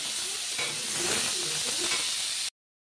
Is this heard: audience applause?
no